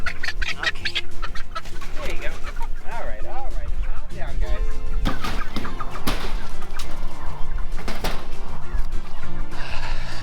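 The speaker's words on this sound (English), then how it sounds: "there's a baby chicken out" Chickens cluck and squawk close by in a backyard coop, busy and overlapping, while a person speaks calmly over them.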